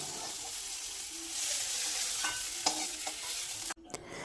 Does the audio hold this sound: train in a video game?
no